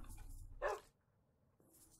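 A single short dog bark from the Minecraft video game, fairly close and clear, followed by near silence and a faint trailing sound.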